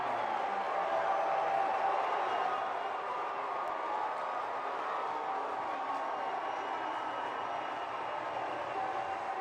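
Stadium crowd at a Lexington Sporting Club versus Louisville City FC soccer match roaring after a home goal, a dense sustained wash of cheering that stays loud throughout.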